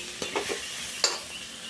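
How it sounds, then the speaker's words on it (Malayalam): One kilo of spiced chicken goes into sautéed onions in a pressure cooker, making a brief soft sizzle with a few light stirring scrapes and one sharper clink. "വഴറ്റിയ സവാളയിലേക്ക് ഞാൻ മസാലകൾ ചേർത്ത് വെച്ച 1 കിലോ ചിക്കൻ ഇടുകയാണ്."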